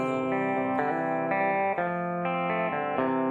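A song plays as a band recording, dense distorted guitars with chorus and reverb moving through sustained chord changes about every half second, loud and continuous.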